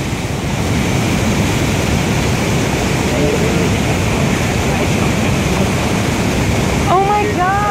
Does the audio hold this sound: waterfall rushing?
yes